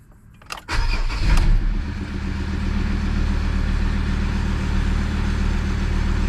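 A Ford Ranger's engine cranks briefly after a couple of faint clicks, catches with a loud rev, then settles into a steady, rumbling idle that continues to the end, with no voices.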